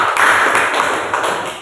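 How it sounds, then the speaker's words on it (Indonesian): A classroom group gives a short burst of applause, steady dense clapping from many hands lasting under two seconds. "mari kita beri aplaus untuk kelompok 1"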